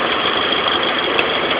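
A car engine fed by a homemade hydrogen bubbler and separator runs at a steady idle, close, loud and continuous with a rough hum and no talk.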